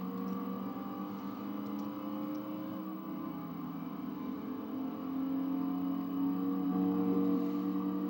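Fiat Coupe engine in the Gran Turismo 2 video game, a steady droning hum with strong tonal layers that rises slightly toward the end as the revs climb, heard alone without talk.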